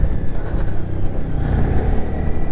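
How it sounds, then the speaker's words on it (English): A small Honda 125cc motorcycle on its standard exhaust revs up, giving a smooth, steady engine rumble with a rising whir, close and loud with no talk. "It's really weird having a standard exhaust on a little 125, especially on a Honda, because you forget how silky smooth it sounds."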